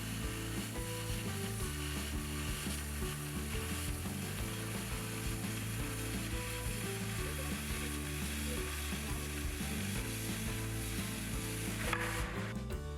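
An oxy-acetylene cutting torch slices through punched-line steel with extra cutting oxygen released, a steady roaring hiss with crackling sizzle and a faint rhythmic mechanical rattle, constant and close throughout.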